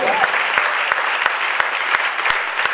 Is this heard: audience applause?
yes